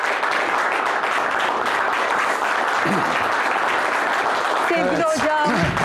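A Turkish television studio audience applauds to welcome a guest, a strategic research expert, with sustained, even clapping, while a voice cuts through briefly and then more clearly near the end.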